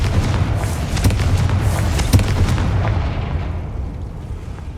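The Confringo explosion spell goes off in Hogwarts Legacy: a loud, rumbling blast with several crackling bursts layered over it, gradually fading into a lingering low roar.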